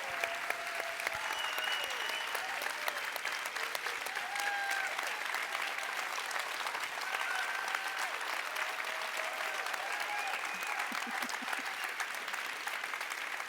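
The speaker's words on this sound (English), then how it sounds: "Everyone, please give our panel a round of applause." A convention audience applauds a panel of science and study presenters, steady dense clapping filling the room for the full stretch at moderate level, with faint voices mixed in underneath.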